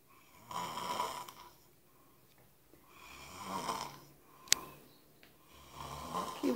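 Someone asleep snores softly and close by in slow, regular breaths, each rasping inhale coming roughly every three seconds, with a faint click midway and no talk.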